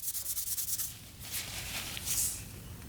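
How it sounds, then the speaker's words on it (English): Steady rubbing as rust is sanded off a high carbon steel knife blade, rhythmic strokes at first, then a smoother continuous scrape, close and fairly quiet. "I've been sanding this knife for about 2 minutes, 3 minutes maybe"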